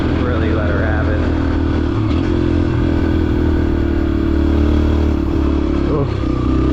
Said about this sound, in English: This bike gets pretty fucking loud when you really let her have it.